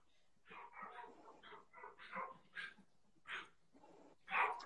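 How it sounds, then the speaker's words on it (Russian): Several dogs bark in short, uneven bursts at moderate distance, with a few yips and whimpering notes mixed in and louder barks near the end. "Что собаки гавкают?"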